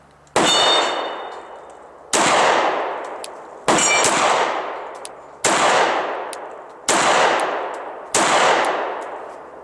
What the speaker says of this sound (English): I'm now going to shoot 5 rounds single action only, and we'll see if we can produce a similar group.